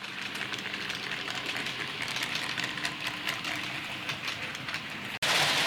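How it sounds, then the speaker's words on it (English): A Hornby R3691 GWR Hitachi IEP bi-mode Class 800 model express train runs along its track with a steady whirring rumble and faint rail clicks, ending abruptly. "And here comes the express train."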